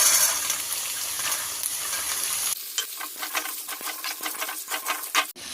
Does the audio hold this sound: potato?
yes